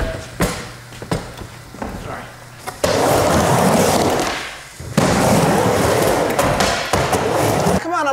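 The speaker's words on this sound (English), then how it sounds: "Do a rocket air right here." Skateboard wheels rolling and a board clacking on pavement during a rocket air attempt, with sharp thuds and sustained rolling roar, loud and close, with people talking over it.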